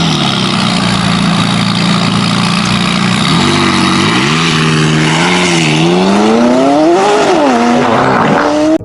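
A McLaren turbocharged supercar engine idles with a loud steady drone, then revs repeatedly, the pitch sweeping up and down in surging blips, close and alone.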